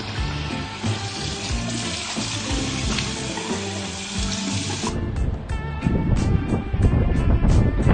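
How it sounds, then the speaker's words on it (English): A pool pump filter cartridge is washed under running water, a loud close spray that hisses steadily, then turns into heavier, more splashy gushing as the stream hits the cartridge. "Go and clean it, give it a good wash, make it nice and white again."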